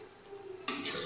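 Potato curry being stirred in a pot with a sudden rush of loud bubbling and sizzling partway through, steady and close after it starts.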